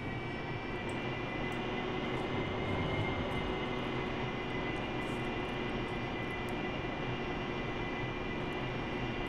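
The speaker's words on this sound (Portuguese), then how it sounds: "AV-8B Sierra, fazendo os procedimentos de take-off no sistema VTO, decolagem vertical." Steady roaring whine of an AV-8B Harrier jet engine during a vertical takeoff in the DCS flight simulator game, a constant loud drone with sustained tonal hum and no talking.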